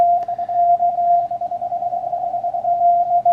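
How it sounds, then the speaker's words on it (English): CW sidetone from a Kenwood TS890 or Icom IC7610 transceiver with the key held down and break-in off, a steady single tone running throughout at moderate level over a bed of receiver hiss. "it's very difficult to hear my side tone over the receiver noise"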